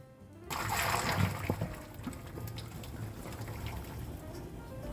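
Pasta cooking water being poured off and reserved in a kitchen, a soft splashing, trickling pour that starts abruptly and continues steadily, fairly quiet and close.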